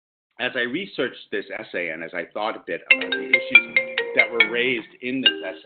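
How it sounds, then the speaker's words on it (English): A mobile phone ringtone goes off midway through a lecture. Its bright, melodic tones repeat clearly under the speaker's continuing talk. "my phone just went off"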